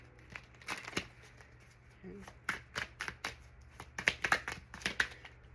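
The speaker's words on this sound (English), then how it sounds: "I'm not done shuffling. These cards are really new" A brand-new tarot deck being shuffled by hand, crisp riffles and slaps of stiff cards in bursts at close range.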